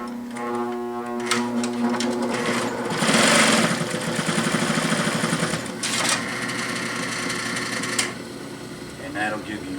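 A plain sewing machine fitted with a right angle binder attachment starts slowly, then runs in fast steady bursts with whirring and rapid stitching clatter, pausing briefly between runs.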